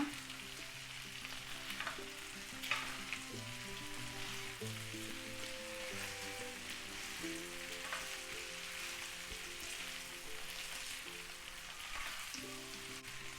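Chicken liver with dill frying in a pan, a steady close crackling sizzle with occasional stirring scrapes, no voices, over a faint background tone.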